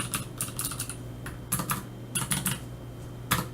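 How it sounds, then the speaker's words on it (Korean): Key presses on a computer keyboard in the Emacs package manager come as a quick run of close, crisp clicks in short clusters, with pauses between groups and one final tap. "지금 제가 N키를 눌러서 작업을 취소를 하겠고요"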